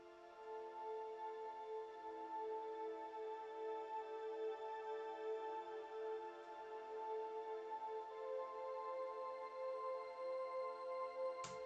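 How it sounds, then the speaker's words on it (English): A warm, ethereal Spitfire Labs synth pad holds a soft sustained chord for the whole stretch, quiet, smooth and unchanging, heard alone without voices. "This is the Labs Spitfire Azure Piano, which is again just a really nice warm sounding pad."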